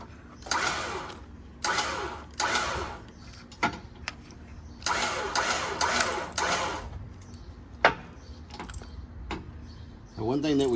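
SuperWinch SX 10k winch motor on a 2018 Jeep Wrangler Sahara spooling in cable in several whirring bursts of a few seconds each, close and fairly loud, with brief stops between pulls and someone talking in between.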